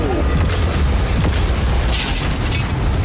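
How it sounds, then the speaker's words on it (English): Cannons in a video game fire in a dense, continuous barrage of booms and blasts, ripping through a defense of storage containers and a yacht, loud and unbroken throughout. "We kept firing cannon after cannon, ripping through Sean's defense."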